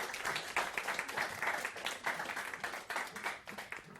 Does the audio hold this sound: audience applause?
yes